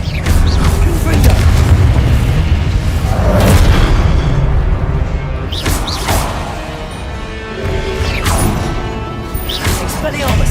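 Confringo explosion spells in a Harry Potter video game produce repeated heavy booms and crashes, loud and close, layered over a voice excitedly calling out spell names throughout.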